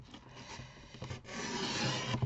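Scissors cut diagonally through a sheet of paper, giving a short, close rasping and rustling stroke that builds toward the end with no talk.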